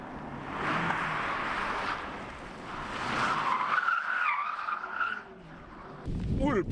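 A Hyundai Ioniq 5 N drifts with long, wavering tire squeals that rise and fall over a broad rushing roar, loud and fairly close, ending in a low rumble as voices talk over it.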